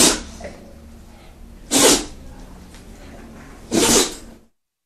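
A cartoon animal character sneezes twice, each a sharp, loud, breathy burst about two seconds apart over a quiet background, ending in silence.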